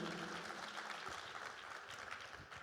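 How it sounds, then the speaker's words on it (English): Audience applause for a CEO speaker at an IT business conference, a steady wash of clapping from a large room, quiet and fairly distant, with a faint voice or two underneath. "So give him a big round of applause."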